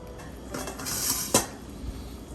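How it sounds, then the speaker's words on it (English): Oxtail being placed into a STAUB braiser during pot handling: soft scraping and rustling followed by a single sharp metallic clink of a utensil against the pot, close and fairly quiet. "now we are going to place our oxtail into the braiser"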